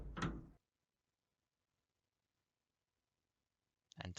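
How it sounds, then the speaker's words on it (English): In the ChäoS;HEAd visual novel, a door sound effect plays as a short clunk and slide, followed by a long silence and then a second brief door-like rattle at the end. "I heard the sound of the door opening"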